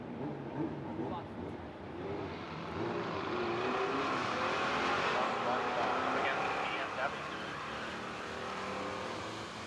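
A drag racing car on drag radials makes a run, a loud broad engine roar that swells and holds steady across the pass, with crowd and track noise around it.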